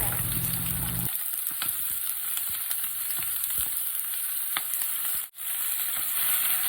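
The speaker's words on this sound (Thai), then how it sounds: "กระทะร้อนแล้วนะคะ เราจะเติมคะน้าเราลงไปเลยค่ะ" Chinese kale hits a hot wok with a loud, continuous sizzle and crackle, spatula scrapes and stirring clatter breaking through the frying hiss.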